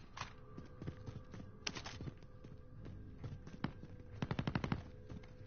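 Video game gunfire during weapon testing: scattered single shots, then a rapid machine-gun burst near the end, fairly faint and with no talk.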